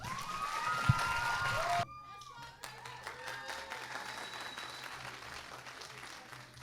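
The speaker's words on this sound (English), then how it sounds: "a big round of applause for Karma Dance Crew" A live audience breaks into clapping for Karma Dance Crew at a documentary screening event. A dense, fairly near burst of applause starts partway through, then thins to a scattered ongoing patter.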